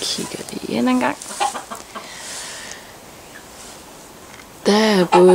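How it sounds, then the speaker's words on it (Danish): Hens in a henhouse, ordinary breeds and silkie chickens, clucking and squawking nearby in bursts, loudest at the start and end with quieter murmuring in between, while someone talks. "Der er både normale høns og silkehøns."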